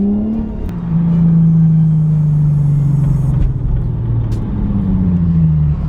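A Nissan 350Z pulls in close with a loud, deep, steady exhaust rumble. The low engine drone holds throughout with slight pitch dips, and a few faint knocks sound in the background.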